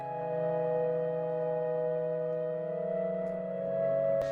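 A smooth breathy synth pad holds airy flute-like sustained tones, steady and gentle, ending with a brief click.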